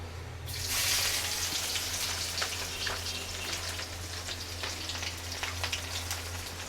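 Chopped onions and green chilies hit hot oil with whole spices in a home kitchen. A sudden strong sizzle starts, then settles into a steady, close crackling hiss with scattered pops.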